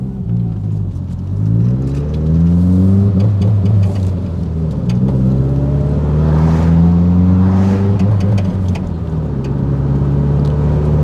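A Subaru WRX STI, limited at 3,500 rpm, pulls hard through first to fourth gear on a road, its loud engine rumble rising and dropping with each shift across several pulls, with no talk over it.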